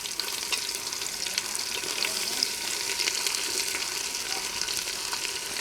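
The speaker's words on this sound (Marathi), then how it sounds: "एक 2 मिनटं ह्याला परतून घेऊया. कांदा आपला आता हलकासा परतून झाला आहे." Thinly sliced onions frying in a pan for a pavta rice dish, giving a continuous even hiss of sizzling oil at a steady level, close by and with no talking.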